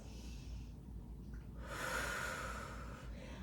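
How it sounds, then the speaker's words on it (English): Deep breathing during a Pilates child's pose stretch: a long nasal inhale followed by a fuller, louder breath, heard close and alone over faint background hiss. "Take a deep breath in. 2 more breaths."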